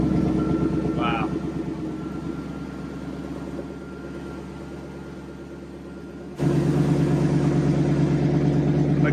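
A barn-find car's original, unrebuilt carbureted engine idles steadily with a low, even rumble that grows slightly louder near the end, while people talk over it.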